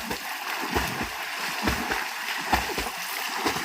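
A woman swimming in a pond makes repeated close splashes and rhythmic water strokes, continuous and fairly loud throughout.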